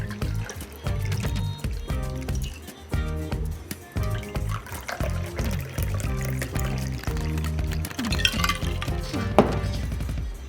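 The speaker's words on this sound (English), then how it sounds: "we're just gonna pour our drink into here" Drink poured into sugar-rimmed glasses for a Valentine's cocktail, a steady liquid stream with occasional glass clinks, close and clear over a soft music bed.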